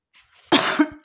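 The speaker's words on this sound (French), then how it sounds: "je tousse ce matin, pourquoi ?" A single harsh cough from a woman during a morning tarot card reading, close and fairly loud, preceded by a faint breath.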